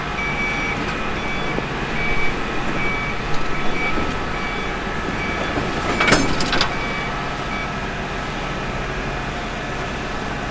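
A tractor backs up a 2500-bushel grain cart, its reversing alarm beeping steadily over the engine's low rumble, with a brief metallic clank partway through and no talk.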